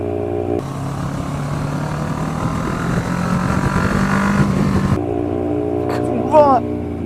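Motorcycle engine with a loud exhaust, a sustained rising drone that swells for several seconds between cut-off wind noise, with a brief tonal chirp near the end.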